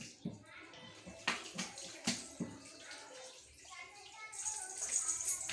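Water poured from a mug over a small child during a traditional Indian bath, splashing in uneven bursts close by, with a voice and adult talk heard faintly among the pours.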